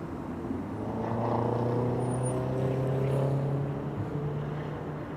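An airliner climbs out after takeoff at Amsterdam Schiphol Airport, its engines a steady low roar with droning tones that swell then ease slightly, heard from a distance.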